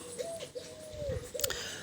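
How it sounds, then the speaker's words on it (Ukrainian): Pigeons coo in three drawn-out, wavering calls close by, with a brief sharper bird chirp near the end over faint background noise. "голуби щось знову кричать"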